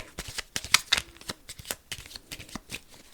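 Cards being shuffled up close, a rapid series of crisp riffling and slapping bursts in an uneven rhythm, with no talking.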